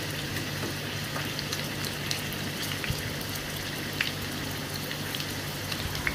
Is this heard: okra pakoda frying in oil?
yes